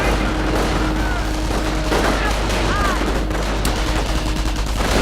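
Battlefield gunfire in the World War II strategy game Company of Heroes, a dense, continuous crackle of machine gun bursts and shots that fills the whole clip at steady loudness, with faint game sounds mixed underneath.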